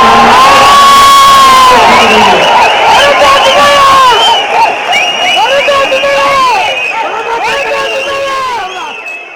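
A large crowd at a party general council meeting in Mamallapuram, Chennai, cheers loudly in unanimous approval of a resolution, with sustained whoops and shouts close and dense, slowly thinning toward the end.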